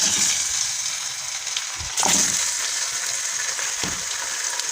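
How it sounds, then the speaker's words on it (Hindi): Chicken pieces fry in hot oil in a pot, giving a loud, steady hiss and sizzle with occasional stirring scrapes, close and continuous, without speech. "अब उसी ऑयल में जो है वो मैं चिकन को डाल के फ्राई कर लेती हूँ।"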